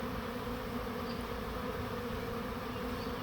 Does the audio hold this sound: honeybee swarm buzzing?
yes